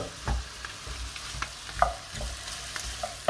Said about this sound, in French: on va faire plonger les oignons. Donc au départ, on les fait saisir à feu vif.